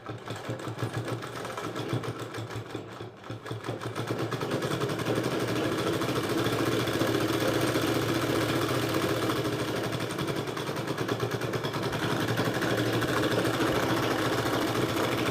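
A sewing machine stitches the collar of an apron with a steady, continuous mechanical whir that holds level throughout at moderate loudness after a rougher start.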